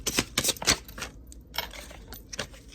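Tarot cards drawn and shuffled from a deck, with a quick run of crisp close card flicks and slaps, then quieter rustling, without talk.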